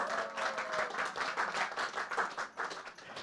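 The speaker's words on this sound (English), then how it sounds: "a huge round of applause for Anjali on the launch of her new book" Audience applause at a book launch event at 1880 Singapore, a steady crowd clapping that fills the room, dense and continuous throughout with no speech over it.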